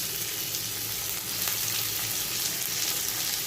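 Eggplant pieces frying in a pan, a steady dense sizzle with faint stirring scrapes, loud and continuous throughout with no talking.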